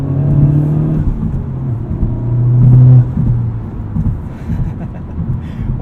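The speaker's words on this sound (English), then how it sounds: "you get a little bit of a blow-off valve noise" A Honda Civic Type R's 2-liter turbo engine rumbles and whirs at low pitch, swelling briefly as the throttle lifts, with a faint turbo blow-off valve release after; steady and close.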